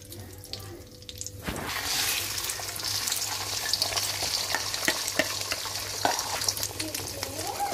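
An egg frying in butter in a wok for fried rice, starting after a quiet hum with a sudden burst into a steady, close crackling sizzle punctuated by light scraping stirs.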